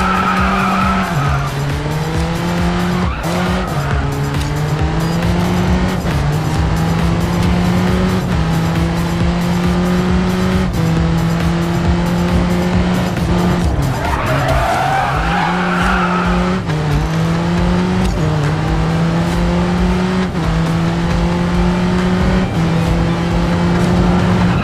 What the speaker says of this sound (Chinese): 漂移角度太大，注意调整。